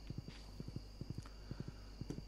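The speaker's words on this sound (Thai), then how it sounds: "โอเคไปกันเถอะน้องม้า" Horse hooves clip-clop at a steady walking pace in Stardew Valley, evenly spaced paired thuds repeating over a faint constant background hum, with no talking.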